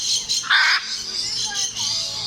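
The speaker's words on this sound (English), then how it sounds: "Hyacinth macaw." A hyacinth macaw gives a couple of harsh, raspy squawks in a zoo or aviary setting, loud and close, with chatter and background bustle continuing around the calls.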